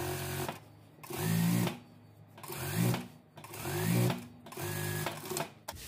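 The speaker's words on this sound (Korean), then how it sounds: "3cm 위치에 스티치 놓습니다" A sewing machine stitches a seam on a dress in three steady runs, each about a second long, with short pauses in between. The motor hum is close and clear, with no talking.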